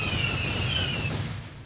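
An explosion move from the Peroxide Roblox sword game makes a steady, dense roar with a bright high whine on top. It holds loud for over a second and then starts to fade.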